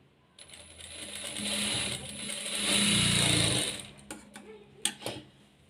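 A sewing machine stitches a lined blouse in two short bursts of steady mechanical whirring, close by and moderately loud, followed by a few sharp clicks and taps.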